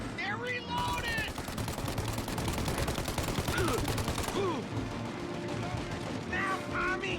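Gunfire in the video game Mafia, dense rapid bursts of machine-gun fire close and continuous through a shootout, with voices shouting over it.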